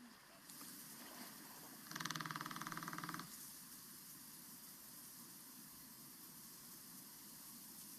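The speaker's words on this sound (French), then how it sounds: "Ce qu'on entend là, c'est le chant d'amour du phoque mâle." Underwater hydrophone recording from Finland's Lake Saimaa of a male Saimaa ringed seal's love song: a single buzzing, rasping call of about a second, steady and moderately loud over constant hissing water noise.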